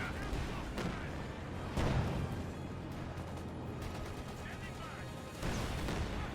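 Gunfire on a mortar in the online 4v4 match of the World War II strategy game Company of Heroes 2, a dense stream of muffled shots and booming impacts under battle noise, with a voice talking over it.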